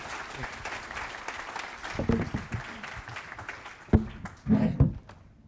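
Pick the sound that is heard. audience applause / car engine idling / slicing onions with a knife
audience applause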